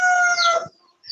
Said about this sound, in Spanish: Qué hermoso ese gallo.